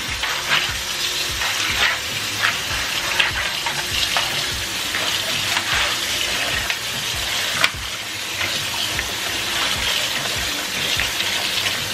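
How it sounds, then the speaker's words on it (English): Hot water gushing steadily from a tap into a basin dosed with washing soda, a continuous close rushing and splashing that runs the whole time without talk. "And then fill it up with hot water."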